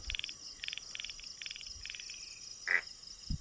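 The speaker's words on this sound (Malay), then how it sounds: "Dengar tuh katak." Frogs croak in short repeated pulses at night on a hilltop near the Terengganu–Kelantan border, with steady insect chirring behind and one brief louder call near the end.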